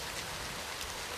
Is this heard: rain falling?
yes